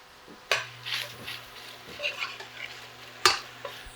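Onion cooks in veal pan juices in a kitchen pan, with soft sizzling, stirring scrapes and a couple of sharp utensil knocks against the pan, fairly close.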